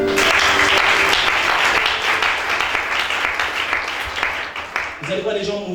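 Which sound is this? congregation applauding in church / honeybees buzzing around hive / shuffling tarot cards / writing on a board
congregation applauding in church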